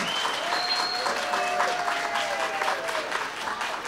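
An audience at an air quality committee meeting on refineries breaks into loud, sustained applause mixed with crowd noise and a few whoops and voices.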